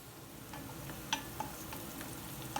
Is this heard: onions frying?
yes